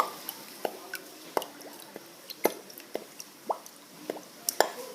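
Water dripping and plopping in egg cups, a run of distinct hollow drips and small splashes at an irregular rhythm, close and fairly quiet with no talk.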